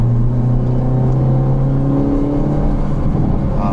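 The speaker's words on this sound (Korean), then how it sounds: "이게 지금 배기음이 스포츠 플러스에서 이렇게 가다 터지네요." A Hyundai Avante N with manual gearbox in Sport Plus mode, heard from inside while driving: a loud, steady droning exhaust hum with engine rumble throughout, no distinct pops standing out.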